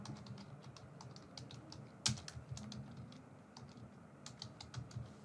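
Steady computer keyboard typing, a quick string of light keystrokes entering a text label, close and moderately quiet, with one sharper key strike near the middle and no talking.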